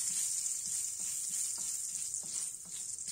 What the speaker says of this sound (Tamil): சோம்பை இந்த மாதிரி நல்லா ஃப்ரை பண்ணுங்க